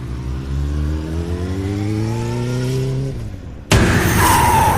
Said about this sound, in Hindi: काली सड़क पर वो अपनी बाइक के साथ घसीटते हुए कुछ दूरी पर जा रुका